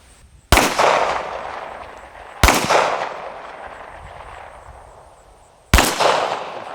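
Three loud, sharp gunshots from a heavy handgun fired outdoors at a range, spaced a couple of seconds apart, each with a sudden crack and a long rolling echo that fades before the next shot.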